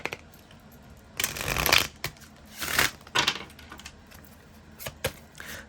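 Tarot cards are shuffled by hand in several quick, crisp riffling bursts separated by short pauses, close and fairly quiet, with no speech.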